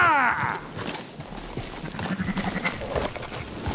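Sheep bleating in the video game Red Dead Redemption 2, a short wavering bleat at the start followed by a mix of hoof clatter, rustling and faint animal calls from a moving flock.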